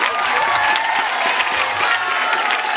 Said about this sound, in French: Nous avons applaudi certainement pour le Tichela.